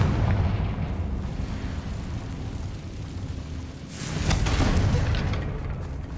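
A Confringo explosion spell goes off in a Harry Potter video game, a single deep booming blast with a broad roaring burst that swells and lingers before fading.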